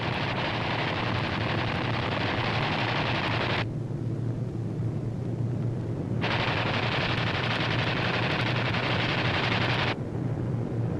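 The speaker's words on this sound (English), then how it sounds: "These B-25s are carrying out low-level strafing operations against Jap surface vessels" B-25 bombers strafe with machine guns on an old WWII film soundtrack, a dense, loud, continuous roar of gunfire and engine noise with a brief muffled dip partway through.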